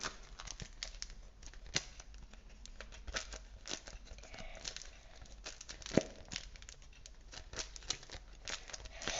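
Plastic tape on a homemade pop-it toy crinkles and crackles up close in a steady stream of irregular small snaps and pops, with no voices.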